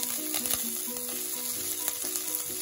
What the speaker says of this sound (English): Once the oil heats up, add the chopped peppers.